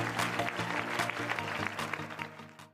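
Audience applause welcoming 40 young performers back onto the stage at a Tibetan-style final showcase, a dense burst of clapping that holds briefly and then tapers off.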